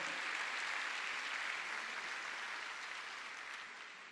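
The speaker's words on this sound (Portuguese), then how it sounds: "Pode aplaudir o Senhor." Church congregation applauding together in a steady wash of clapping that holds evenly, then tapers slightly near the end, with no voices over it.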